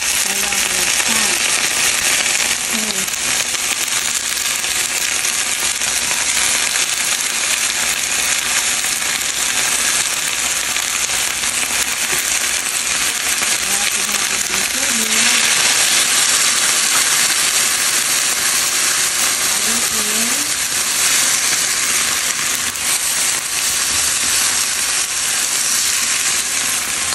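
Pork ribs for sweet and sour pork frying in a hot pan, giving a loud, steady, crackling sizzle that runs unbroken throughout, with brief spatters and occasional faint speech beneath.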